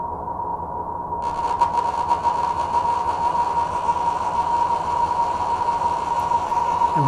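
Reverb effect run with no damping: a dense, steady wash with a gritty, grindy hiss that jumps in on top after about a second and holds to the end, loud and without voices.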